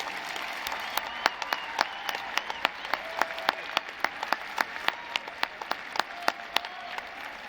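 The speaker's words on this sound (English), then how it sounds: "acknowledge and thank them with a warm round of applause" A warm round of applause for faculty at a university commencement ceremony, sparse individual claps ringing out in a loose, steady rhythm across a large hall.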